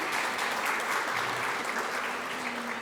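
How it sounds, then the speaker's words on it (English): A graduation audience gives sustained, even applause for a woman presenting gifts, a continuous wash of many hands clapping at moderate volume from start to finish. "Give her a round of applause."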